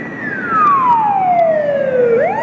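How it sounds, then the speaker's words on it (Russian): A loud ambulance siren wails close by on a street in Yakutsk, one long falling tone that sweeps down and then jumps back up as the vehicle rushes past. "О, что там? Скорая мчится."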